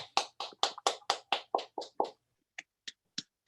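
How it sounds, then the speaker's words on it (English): One person claps hands, about ten crisp claps in a quick even run, then a short pause and four slower, spaced claps, with no talking. "I'm going to clap for y'all"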